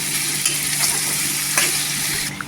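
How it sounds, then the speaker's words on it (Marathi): Chopped, salted tomato sautéing in oil in a pan, with a steady close sizzle and a few soft stirring scrapes throughout, no voices. "छान असा तेलावर परतून घ्यायचा टोमॅटो।"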